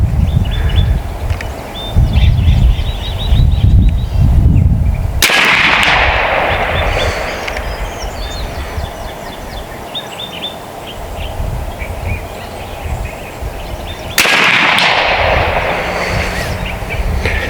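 Two sharp reports from a B&W Bin Tac S45 air rifle shooting slugs, about nine seconds apart, each a crisp crack with a brief ringing tail over steady outdoor background noise with birdsong early on.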